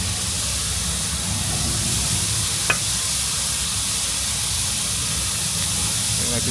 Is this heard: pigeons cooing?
no